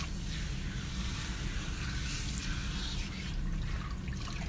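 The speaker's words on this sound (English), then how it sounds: "So as I'm talking, you can tell I'm rinsing the hair down really good, making sure that all of the hair is saturated" Water running steadily over hair during a shampoo rinse at a salon basin, a continuous broadband splashing wash that carries on without a break and with no talking.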